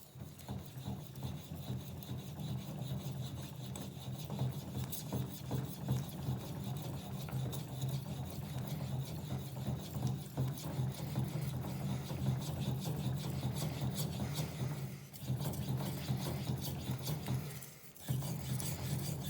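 Shirogami steel knife sharpened by hand on natural Japanese whetstones, a soft continuous rasping scrape with steady back-and-forth strokes, close and quiet, pausing briefly a couple of times.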